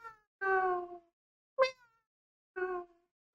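A human voice imitates a cat meowing, three separate drawn-out meows with short pauses between, close and clear, during a classroom lecture.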